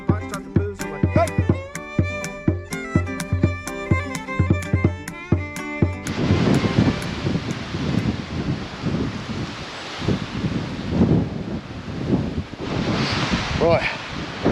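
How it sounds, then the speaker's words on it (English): Strong wind buffets the microphone during a ride on a 50cc Clark Scamp vintage moped, a loud broadband rush that swells and gusts across the second half, following an opening stretch of rhythmic music. "Right, we are battling the wind."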